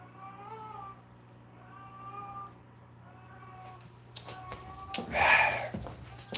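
A cat carrying a toy in its mouth gives a series of muffled, drawn-out meows, several soft calls spaced apart and then a louder, sharper yowl near the end, over a low steady hum indoors.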